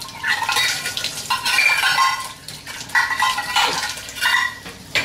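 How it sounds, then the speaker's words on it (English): Dishes being washed up by hand in a kitchen sink with running water, a steady clatter of crockery and splashing that comes in close, fairly loud bursts with short pauses, no talking. "I should always manage to spill tons of water on myself as I wash up"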